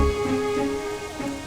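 Steady rain falls in a continuous soft hiss, with a sustained tonal hum running underneath and no voices.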